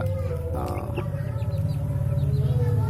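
Bangkok chickens cluck and murmur nearby in a continuous low chatter, with a noisy outdoor background and occasional louder calls.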